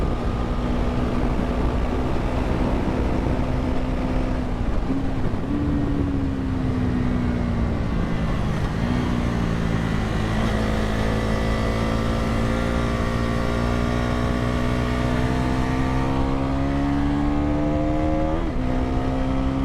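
A Bajaj Pulsar NS 400z motorcycle is ridden hard on a race track, its engine droning loudly and continuously while the pitch rises and drops through throttle changes and gear shifts, with heavy wind noise.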